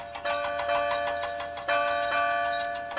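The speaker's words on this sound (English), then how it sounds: "The bell chimed cheerfully as it was loaded onto Duncan's flatbed." A large bell being loaded onto a flatbed rings out in a series of bright, resonant strikes, each one ringing on and overlapping the next, fairly loud and clear with no talking.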